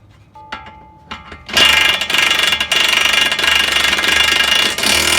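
A ratchet tightens the new outer tie rod nut on a Toyota Camry. A few quick clicks come first, then a loud, sustained, rapid ratcheting that runs close up for several seconds, with no talking.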